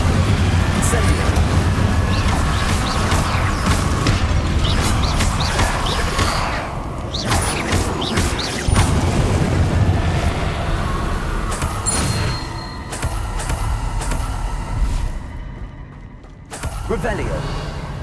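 Incendio fire spell being cast repeatedly in the Hogwarts Legacy video game, a dense run of crackling, rumbling bursts and clattering impacts that fills the scene for many seconds, ending in a brief silent gap before the roar resumes.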